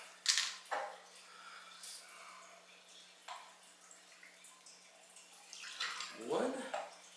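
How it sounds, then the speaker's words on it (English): Grapefruit juice is measured out for a Paloma cocktail: short, faint splashes and drips, then a quick pour near the end whose pitch rises as the vessel fills. "2 ounces of grapefruit juice."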